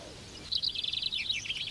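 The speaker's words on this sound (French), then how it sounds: "Mais qu'est-ce qui fait chanter les pinsons?" A chaffinch sings a quick descending trill of bright, clear notes at close range during a chaffinch singing contest in Wallonia, Belgium, in 1988.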